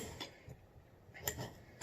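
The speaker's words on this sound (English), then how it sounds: "this is me cutting up the tomatoes" Tomatoes being cut with a knife in a home kitchen, a few sparse sharp taps and clicks of the blade hitting the board at irregular intervals, close and fairly quiet.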